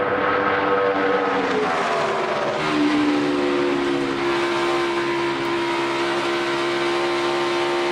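NASCAR stock cars race past at Chicagoland, engines screaming at a loud, sustained high pitch with a Doppler-like drop as one car roars by, followed by a continuous roar from the pack.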